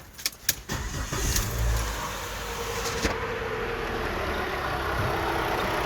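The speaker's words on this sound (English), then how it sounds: "Let's fire this thing up and see if this noise is still there." A car engine cranks with a few sharp starter bursts, catches and settles into a steady, fairly quiet idle, a faint high chirp from inside the timing cover riding over the running motor.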